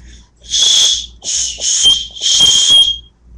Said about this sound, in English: it has a built-in whistle, which is kind of nice because maybe it's not the greatest whistle in the world